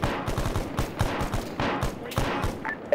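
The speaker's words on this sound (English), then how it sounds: "So I think that's shooting from that guy over here" Gunfire in a military video game raid, with repeated shots and short bursts crackling at steady loudness for about three seconds, without speech.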